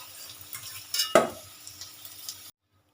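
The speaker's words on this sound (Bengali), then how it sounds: "আলুগুলো হালকা লালচে ভেজে নিয়েছি" Oil sizzles steadily with a louder burst of crackling midway, as potatoes are fried and turned in a hot pan, then cuts to silence.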